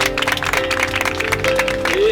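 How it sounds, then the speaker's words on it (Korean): Clapping from a Korean Presbyterian church congregation during a Sunday worship service, heard under an organ or keyboard playing sustained tones. It is loud and continuous, with the clapping blended into the music. "박수합니다."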